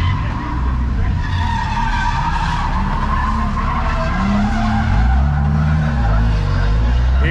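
Nissan 370Z drifting, tires skidding and squealing under a revving engine, the pitch sweeping up and down as the car slides, loud and sustained with faint voices in the background.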